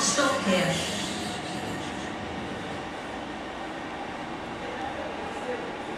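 A train rumbles steadily through Smethwick Galton Bridge station without stopping, a broad continuous roar with faint squealing early on, a voice murmuring over it.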